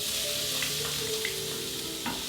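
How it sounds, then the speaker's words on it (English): Steady sizzling of mustard seeds frying in hot oil, close and continuous, with a few faint pops and light clinks. "I'm also going to add some mustard seeds. Get those sizzling first"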